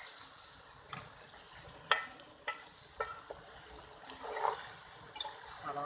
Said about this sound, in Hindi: अब इसको अच्छे तरीके से भूनना है